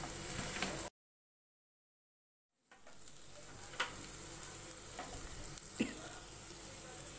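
Bitter gourd (karela) slices sizzle and fry in a hot pan, pressed down as they roast, a soft steady crackle that cuts out briefly, then resumes with occasional stirring clicks.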